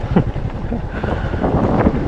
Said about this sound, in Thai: ลมแรงมากเลยนะวันนี้นะ